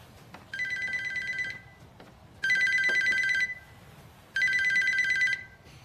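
A telephone rings indoors in three long, bright electronic trills with short quiet gaps between them, clear and fairly close, with no talking over it.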